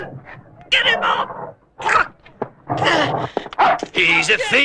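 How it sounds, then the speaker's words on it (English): A dog barks, whimpers and growls in bursts while attacking a thief in a medieval market setting, mixed with shouting voices and crowd commotion close by. "Let the dog have him."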